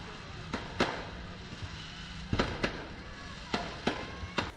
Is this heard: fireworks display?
yes